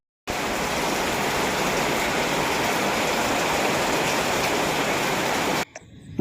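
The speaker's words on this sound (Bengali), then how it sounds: "ঘরে এসে ঢুকলাম আর বৃষ্টি শুরু হয়ে গেল মুষলধারে" A heavy downpour at night pours around a house as a dense, loud, unbroken roar. It starts abruptly, holds steady for several seconds, then cuts off sharply near the end.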